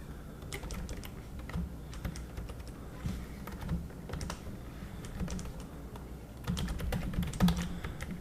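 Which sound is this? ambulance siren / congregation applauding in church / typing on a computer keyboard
typing on a computer keyboard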